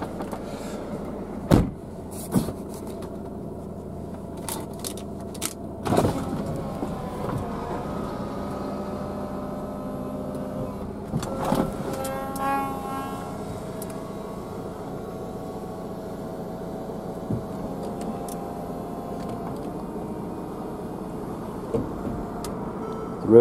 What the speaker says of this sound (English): Roof, as you can see, all works fine.